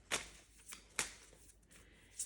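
A tarot deck is shuffled by hand in soft bursts, several brief riffling card flutters spaced apart, close but quiet in a hushed room.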